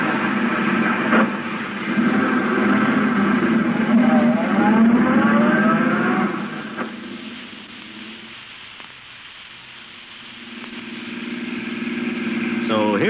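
A taxi car engine drones and revs while driving in pursuit of a gray sedan, a steady motor hum that fades midway then swells again, with some muffled voices mixed in.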